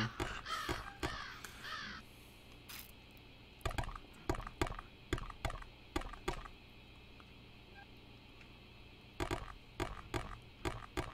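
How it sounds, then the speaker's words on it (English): Crows caw in the video game Sense: A Cyberpunk Ghost Story, in repeated clusters of sharp, rasping calls spread across the scene, with scattered clicks and soft ambience between them. "Hey, good to see you, crows."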